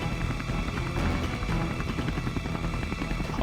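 A Russian attack helicopter's rotor and engine drone loudly and steadily, a dense mechanical roar with a rapid throb, close and without voices.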